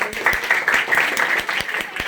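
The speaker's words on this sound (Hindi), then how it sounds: "एक बार ताली बजाएं अगर मेरी बात अच्छी है" An audience at a public talk in Surat, Gujarat, gives a short round of applause. It sounds like a brisk, evenly loud wash of many hands clapping for about two seconds, with no voice over it.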